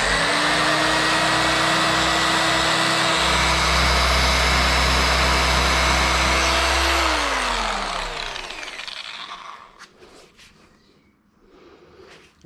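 A car polishing machine loaded with Carpro Clearcut polish on an Audi A5 runs at low speed setting 3, a steady loud motor whine that holds evenly, then drops in pitch and winds down, leaving quiet clicks and handling noises.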